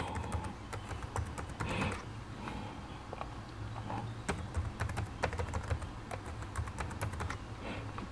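Rapid clicking on a computer keyboard while filling in a password during journal manuscript submission registration, quick irregular bursts of keystrokes with brief pauses, close and fairly quiet.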